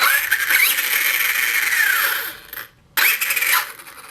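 An Arrma Kraton EXB 1/8-scale RC car runs its freshly swapped motor and ESC with a high whine that revs up and down, cuts out briefly, then spins up again.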